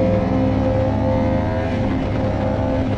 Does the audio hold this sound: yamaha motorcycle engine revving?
yes